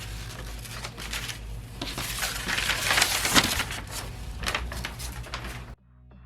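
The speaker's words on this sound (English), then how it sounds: "I'm just cutting right along the line that I've marked." Scissors cut through craft paper along a marked line, giving a close, steady crunching and crinkling that runs for several seconds before stopping abruptly.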